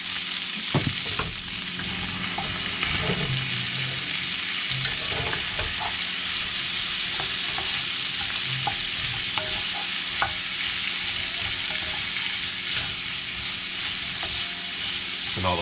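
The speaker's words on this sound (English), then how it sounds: "I'm using an enamel cast iron pan, so it's really going to aid in getting some good color on these vegetables too." Vegetables and sausage sizzle in an enamel cast iron pan, a loud steady frying hiss with frequent clinks and scrapes of stirring running the whole time.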